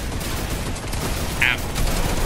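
Rapid turret gunfire rattles in continuous bursts during a Fortnite match, a dense fusillade of shots mixed with game noise and someone talking over it.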